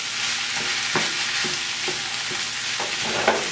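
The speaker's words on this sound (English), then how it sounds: "So I'm going to go ahead and add our beans now. Stir this all up really nice." Black beans with chili powder and onion in a hot pan sizzle steadily while a spoon scrapes through them in regular stirring strokes, close and without talk.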